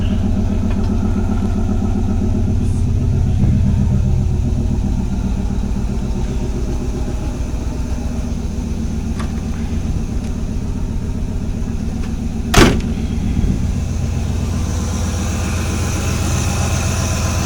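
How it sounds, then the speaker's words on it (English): A small engine fitted with a Chinese carburetor idles steadily with an even, throbbing low chug, continuous throughout, with one brief sharp click partway through. "this Chinese carburetor is doing pretty well. Idling pretty good."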